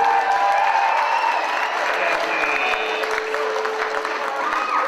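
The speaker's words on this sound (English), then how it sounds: "We get a round of applause for Karen, please, ladies and gentlemen." Audience applause at a battle of the bands event, a steady dense patter of clapping mixed with crowd shouts and whistles, loud and continuous throughout without talk.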